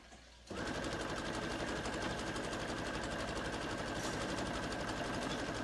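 A sewing machine stitching fabric for a dress costume starts abruptly and runs in a fast, steady mechanical whir with rapid needle ticking, close and continuous until the end.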